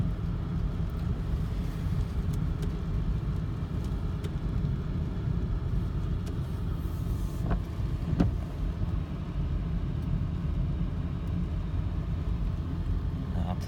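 A 1997 BMW 740iL with a 4.4-liter V8 cruising at higher speed on a main road, heard from inside as a steady low engine and road rumble with wind noise and occasional faint clicks.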